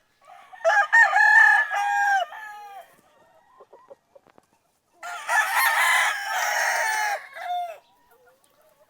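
An aswang line gamefowl rooster on a breeding farm crows twice, loud and close, with a long, wavering call, a pause filled with faint clucks and taps, then a second full crow.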